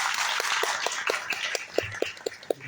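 An audience at a public event applauds a speaker. Moderate clapping fades to a few sparse, distinct individual claps near the end.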